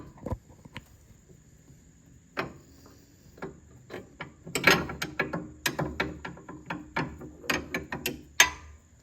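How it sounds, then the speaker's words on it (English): Maximum Motorsports spring installation tool being worked on a Fox Body Mustang's suspension, producing a series of close metallic ratcheting clicks and clanks in irregular bursts, busier toward the end. "The magic spring installation tool thingy"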